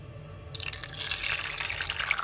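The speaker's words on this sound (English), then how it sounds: "here's my egg, and I'm gonna pour it in" Raw egg poured into hot frying oil for a fried bologna and egg sandwich, a sudden sizzling crackle bursting up and continuing steadily, close and moderately loud.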